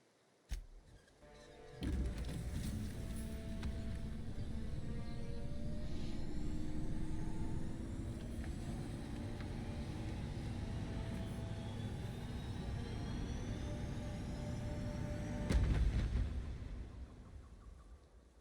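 A spaceship called the Unreliable climbs into low orbit in The Outer Worlds. A sustained engine roar rises sharply at the start, holds steady with a broad rumble, and surges again near the end before fading.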